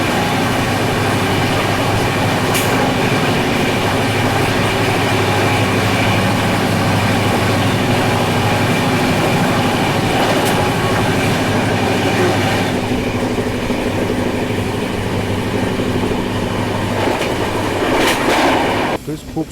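The Jammu Tavi Humsafar superfast train overtakes the Karnataka Sampark Kranti near Rani Kamlapati station: a loud, continuous rumble of passing railcars with rhythmic clickety-clack wheel beats and occasional sharp metallic clanks throughout.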